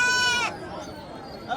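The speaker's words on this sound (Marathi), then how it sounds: "आपला बोदेगाव बाजारात शेळ्या एकदम अशा टॉपच्या येतात मित्रांनो." A goat gives one loud, close, wavering bleat at the Bodhegaon goat market in Maharashtra, then dull market background follows.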